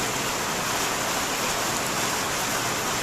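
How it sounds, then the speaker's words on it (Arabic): Heavy summer rain pours steadily as a dense, continuous broadband hiss, loud and close with no breaks and no voices. "إنها تمطر، لا أقدر أن أجيك، إنها تمطر تمطر."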